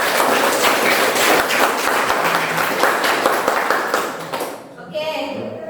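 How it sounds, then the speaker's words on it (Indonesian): Students in a classroom applaud together, a dense, steady burst of clapping mixed with chatter that fades near the end into quieter talking. "Tepuk tangan untuk kita semua."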